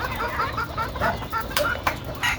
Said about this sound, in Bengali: ভাই মুরগি দেখেন দেখতে থাকেন